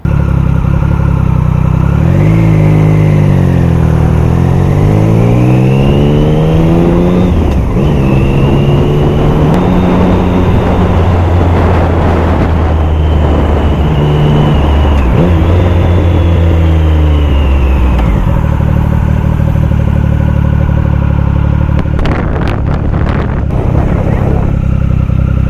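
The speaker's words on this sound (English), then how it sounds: "you clutch, rev match, and then release the clutch, and it's like a seamless transition when downshifting" Triumph Speed Triple motorcycle engine revving hard as the rider downshifts and rev-matches, loud and close with rising and falling pitch sweeps over steady road and wind noise.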